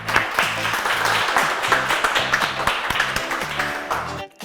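Steady, crowded applause at a school event welcoming a fifth-grade student, many hands clapping at once, loud and sustained, with a musical backdrop, cutting off abruptly near the end.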